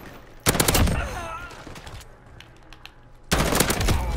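M4A1 rifle in Modern Warfare firing two short automatic bursts separated by a quiet gap, loud and close with echoing tails and faint battlefield sounds between.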